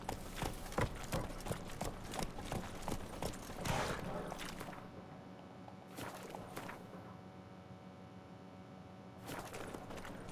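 Horse hooves clip-clopping in The Witcher 3: Wild Hunt, a fast run of close, sharp hoofbeats that slows into sparser, steadier steps with quieter gaps, alone without voices.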